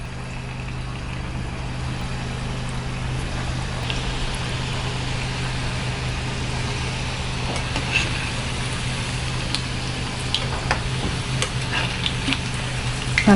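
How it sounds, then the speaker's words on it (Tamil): Bottle gourd bonda deep frying in hot oil gives a steady, continuous sizzle with scattered pops and crackles, moderately loud and close, with no talking over it. "இப்போ நம்ம டீப் ஃப்ரை பண்ணி எடுத்துக்கலாம்."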